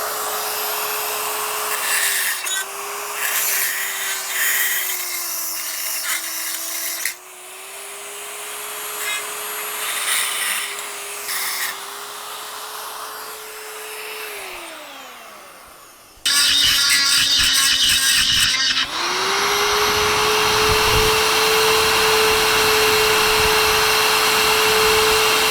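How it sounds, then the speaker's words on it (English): An angle grinder works on a Jeep TJ bumper mount, its steady motor whine changing pitch under load, cutting out briefly and then resuming loud and sustained close by. "So I'll grab my grinder in a bit."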